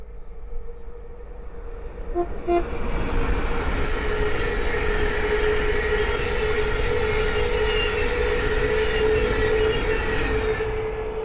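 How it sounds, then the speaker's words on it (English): An electric train rolls past close by, a loud steady rush of wheels on rails with a high whining tone, building quickly and holding. "the next train to pass by is a Thames Link 700"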